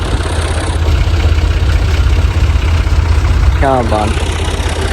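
A farm tractor engine runs steadily at idle nearby, a loud low rumble that continues throughout, with a voice speaking briefly over it.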